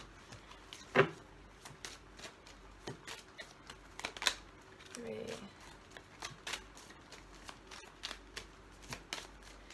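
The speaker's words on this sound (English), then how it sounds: "just as I'm shuffling these" A deck of tarot cards being shuffled during a card reading. Soft, quiet riffling and flicking taps run steadily throughout, with a few sharper snaps and a brief murmur partway through.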